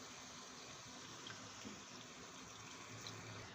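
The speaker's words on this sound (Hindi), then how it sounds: "अब इसके अंदर हम पानी शामिल करेंगे ग्रेवी के लिए" Water pours steadily into a simmering curry gravy in a pot, a soft continuous gush with no voices over it.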